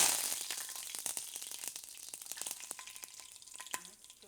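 Curry leaves dropped into hot oil for tempering, a sharp burst of sizzling that starts loud and gradually settles into dense crackling and popping, close by, with no speech.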